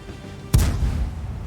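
A tank gun fires in World of Tanks: one sharp, loud cannon shot lands a little past halfway, followed by a deep booming decay that rumbles on to the end over quiet background battle ambience.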